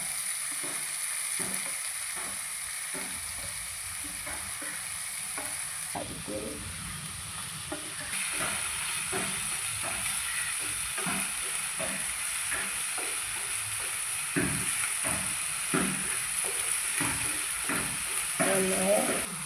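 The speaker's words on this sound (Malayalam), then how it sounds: "ഇനി പച്ചമുളക്, ഉള്ളി, തക്കാളി, കുറച്ച് കറിവേപ്പില ഇതെല്ലാം കൂടി" Green chilli, onion, tomato and curry leaves fry in a pan for a tomato rice dish, giving a steady sizzle with repeated stirring scrapes; the frying grows slightly louder and busier after the first few seconds.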